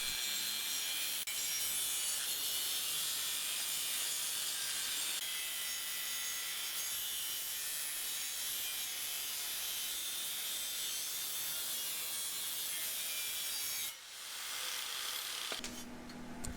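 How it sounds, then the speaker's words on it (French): An abrasive cutting disc slices steadily through the aluminium frame of a Yamaha T-Max scooter, making a loud, continuous high grinding hiss close up, before it cuts off near the end and leaves brief clatter, with no talking. "Découpe selon les traits rouges exécutés précédemment, en décalant d'un cadre à l'autre d'une valeur égale à l'épaisseur du disque"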